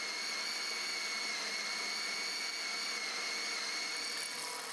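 Steady, high-pitched whine of a power drill boring through metal with a drill bit that is slow to penetrate, its tone holding nearly constant as it grinds away.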